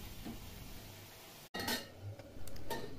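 Soft clinks of a spoon against a pan while bottle gourd is stirred in hot oil with cumin, then the pan is covered with a lid, followed by a few faint metallic taps in a quiet kitchen.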